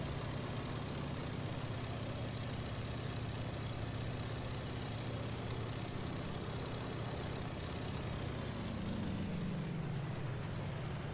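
Radial engine of a Boeing-Stearman Model 75 biplane flying inverted in a flight simulator, a steady, dense, moderately loud drone with a low note sliding down toward the end, no voices.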